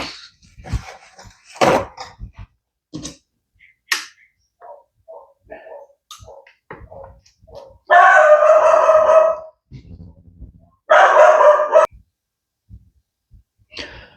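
A dog barks in scattered short bursts at a moderate distance, mixed with sharp, loud rushes of mechanical noise and quiet handling sounds.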